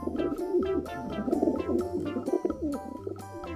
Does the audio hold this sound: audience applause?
no